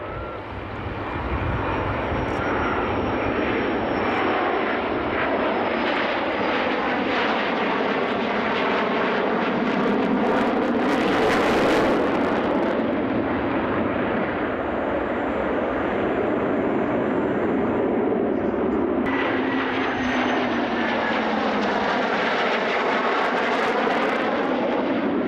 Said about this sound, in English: Spitfire or something.